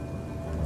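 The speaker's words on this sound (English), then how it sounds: "Weeks of unrelenting downpours drench the landscape." Heavy rain falling across the African savanna with a low thunder rumble, a steady dense wash of sound that swells slightly toward the end.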